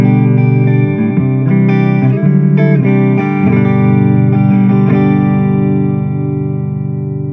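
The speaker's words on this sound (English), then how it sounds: "Jumbo now, so this is designed to sound like a jumbo, full-bodied big electric guitar" An electric guitar played on its rhythm pickup through a Boss AC-3 acoustic simulator pedal on the jumbo setting rings out in bright strummed chords with sustained, full-bodied decay, played alone.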